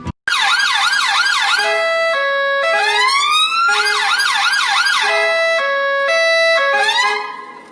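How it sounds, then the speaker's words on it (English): An old military siren wails and warbles loudly through shifting tones, alternating rising sweeps with steady pitches before fading out at the end. "there is an old military siren that was used"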